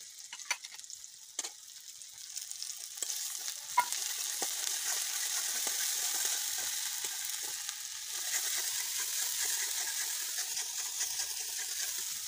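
Cumin and chili paste sizzle and fry in a pan, a steady crackling hiss with a few sharp spatters and stirring clicks early on, close and moderately quiet with no voices.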